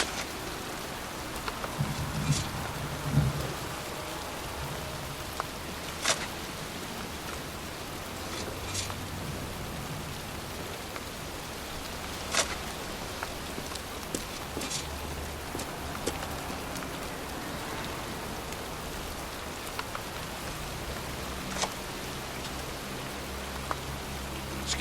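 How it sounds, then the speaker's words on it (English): Steady rain pours down in a cemetery in the video game Heavy Rain, an even hiss of drops on surfaces with occasional louder splats and faint background ambience, no talk. "It's cold. It's raining. I'm standing outside getting soaked."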